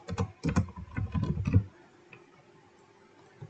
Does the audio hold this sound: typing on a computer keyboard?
yes